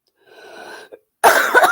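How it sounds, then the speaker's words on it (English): A soft breathy exhale, a brief pause, then one loud, harsh cough from a man with a cold, close to the microphone. "I got a bit of a cold and I don't mean to cough"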